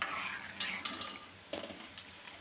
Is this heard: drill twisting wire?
no